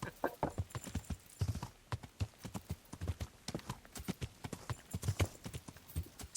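A horse in the medieval game Kingdom Come: Deliverance clip-clops with rapid, steady, close hoofbeats in a continuous galloping rhythm that runs throughout.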